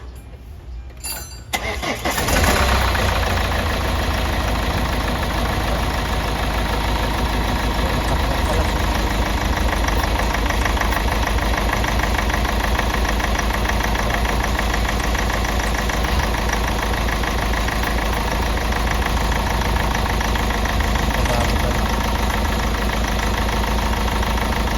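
A Hyundai Starex VGT diesel engine with a newly fitted Delphi injector cranks and starts, then settles into a loud, steady idle right up close that continues unbroken.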